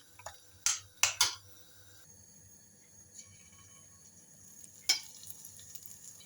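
Egg-battered zucchini pieces drop into hot oil, giving a few sharp spattering bursts over a faint, low background sizzle, with a last splash near the end and no voices.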